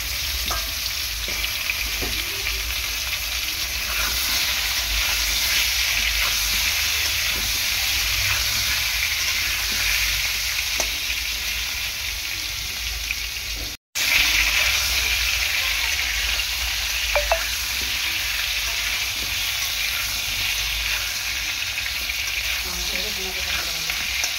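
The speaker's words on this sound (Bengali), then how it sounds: "সবগুলো একদম ফাঁকা তেলে আলুটাকে সুন্দর করে ভেজে নিচ্ছি।" Potato pieces fry in hot oil for a homemade spicy mutton curry, giving a steady, loud, close sizzle and crackle that runs unbroken apart from one very brief cut near the middle.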